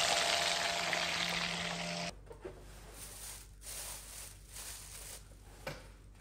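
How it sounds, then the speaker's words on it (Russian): Fish frying: a steady, loud sizzle in a pan for about two seconds, then dropping to a quieter crackle with occasional soft clinks. "я очень люблю жарить рыбу"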